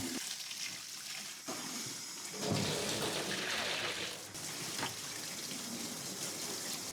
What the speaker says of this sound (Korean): 버킷과 그립가드를 먼저 깨끗하게 헹궈주세요.